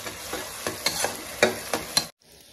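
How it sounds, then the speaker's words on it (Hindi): Chicken leg pieces hitting a hot pan with ginger, garlic and green chili, a steady close sizzle broken by several stirring scrapes and clatters, then cutting off abruptly near the end. "उसके बाद डालेंगे चिकन।"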